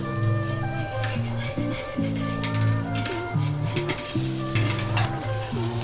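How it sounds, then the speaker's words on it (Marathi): Jowar-flour dhapate flatbread roasts in oil on a pan over a low flame, giving a steady sizzle with occasional scraping and stirring clinks, close by, while someone talks throughout. "हळू गॅसवर भाजायचं, म्हणजे खरपूस भाजलं जातं."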